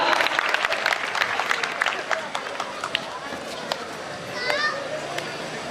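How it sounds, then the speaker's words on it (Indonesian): A school crowd of children and adults applauds a futsal team. Loud scattered clapping at the start thins out as children's voices and shouts take over, and a child calls out near the end. "Tepuk tangannya saat di Darul Quran untuk futsal Darul Quran."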